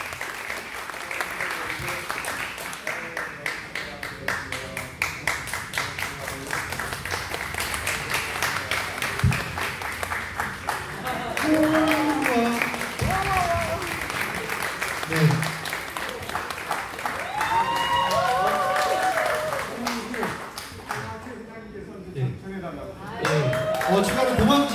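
An audience at a small church choir concert in Incheon bursts into sustained applause, many hands clapping at once. The crowd noise stays dense and fairly loud, swelling and thinning slightly, with a few voices underneath.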